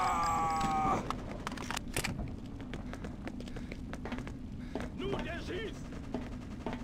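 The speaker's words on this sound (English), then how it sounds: "We're taking fire." Gunfire in the video game Freedom Fighters, with a quick run of sharp shots at the start followed by scattered bursts and battle noise, under voiced game dialogue.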